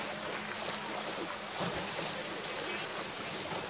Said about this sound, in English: The wind really up and down here